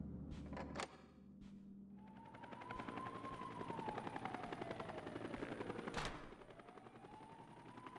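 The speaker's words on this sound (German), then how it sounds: "Da ist tatsächlich ein Heli noch." A helicopter in the video game Red Steel whirs with a steady rotor chop that swells and fades over several seconds, mixed with gunfire bursts and a falling whine, with no voices.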